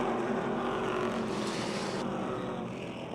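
Race cars resuming racing at Motordrome Speedway in 2006, several engines blending into a continuous, fairly distant roar that holds steady and fades slightly toward the end.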